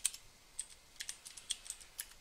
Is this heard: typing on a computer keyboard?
yes